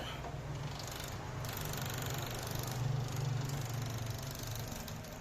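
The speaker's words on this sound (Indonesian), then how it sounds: "Kemudian di sini kita bisa lihat kipasnya sudah berputar." A Panasonic inverter air conditioner module's fan spins steadily with a low, constant hum and broadband whir, fairly close, and no voices.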